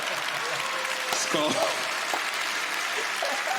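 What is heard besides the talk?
comedy audience clapping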